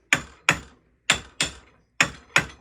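Six sharp metal taps of a hammer on a five-pound Adirondack wedge banger held in a vise, spaced in uneven pairs with quick decays, close and crisp with no talking.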